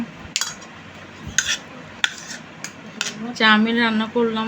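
Chow mein being served onto a plate, with close clinks and scrapes of utensils against dishes, a few separate knocks followed by a short squeaky rubbing sound at the end.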